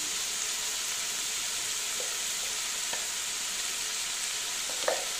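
Ridge gourd frying in a pan with turmeric, a steady soft sizzle with occasional light scrapes and taps of stirring, close and fairly quiet.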